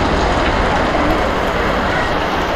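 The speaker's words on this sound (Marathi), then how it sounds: "पाऊस जोरात आलाय" Heavy rain pours down near a fish market in a steady, loud, dense roar that does not let up.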